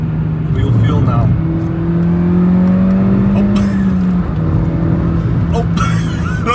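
Engine drones and rises in pitch as a Suzuki Swift Sport accelerates, heard from inside, with a voice speaking over it.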